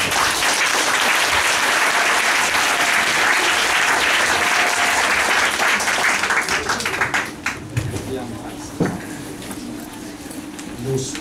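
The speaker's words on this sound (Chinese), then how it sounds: "热烈掌声欢迎" An audience at an evening talk on the future of the left breaks into sustained applause welcoming a speaker, dense clapping that stays loud for several seconds before thinning into scattered claps, with some speech underneath.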